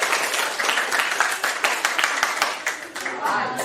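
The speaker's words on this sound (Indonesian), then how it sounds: "Kita beri tepuk tangan yang meriah" A classroom of students gives lively, sustained applause, dense clapping close by running steadily throughout, with voices mixed in beneath it.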